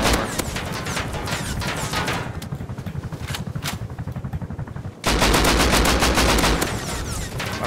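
Rapid automatic gunfire from a multiplayer shooter video game, loud and dense with bursts of fire, a brief dip in intensity, then renewed heavy shooting near the end.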